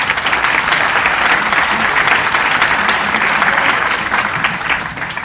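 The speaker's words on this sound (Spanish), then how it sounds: "demos un gran aplauso a nuestro expositor" Sustained audience applause at a professional-service conference, dense and steady clapping from a large crowd lasting several seconds with no speech over it.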